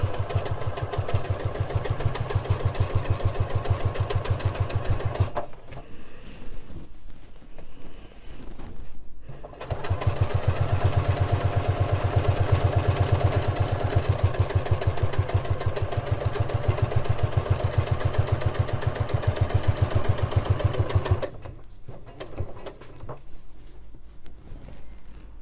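A sewing machine stitches in steady, rapid bursts while free motion quilting a cushion cover, the motor whirring continuously with two brief pauses midway and near the end.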